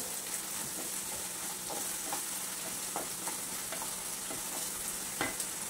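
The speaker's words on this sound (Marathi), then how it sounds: "मंद गॅसवर ते सर्व भाज्या अशा पद्धतीने भाजायच्या आहेत।" Steady low sizzling of vegetables, including grated carrot, roasting in a pan over low heat, with occasional soft stirring taps, continuous and close.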